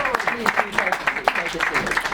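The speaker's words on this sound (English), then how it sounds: "Round of applause for this chap here" A comedy club audience at a Brighton gig claps for a contender being welcomed on stage, a scattered, moderately loud patter of hands with a voice talking over it.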